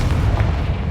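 Confringo spell explosion in Hogwarts Legacy, a single loud, deep, rumbling boom filling a brief moment.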